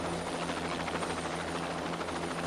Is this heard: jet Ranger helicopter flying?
yes